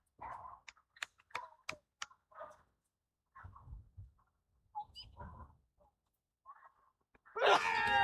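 A sneeze bursts out loud and close at the very end, following scattered short clicks, taps and faint voices at a village cricket match in the Sussex Cricket League.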